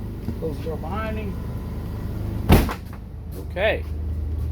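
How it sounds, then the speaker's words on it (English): A door on a new 2023 Wayfarer 25RW motorhome in Florida shuts with a single close, sharp thud midway, with a person talking before it and a brief voice after. "Close the door behind me."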